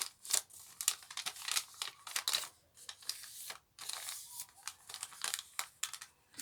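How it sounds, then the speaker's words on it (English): Sheet of paper being folded in half and creased, giving a run of close crisp crinkling and rustling bursts with short pauses, no talk. "So what I'm going to do now is fold it in half."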